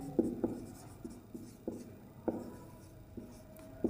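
Chalk taps and scrapes across a classroom board as a maths problem on averages is written out, a steady series of short strokes and knocks at moderate volume with no talking.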